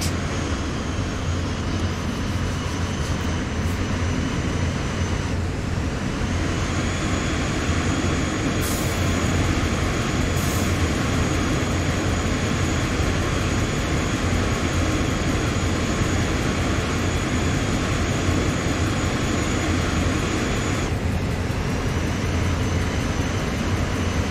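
Train running in the Train Sim World 3 game on the Horseshoe Curve, a loud continuous rumble and rail roar with steady tonal whine, briefly shifting midway, no voices.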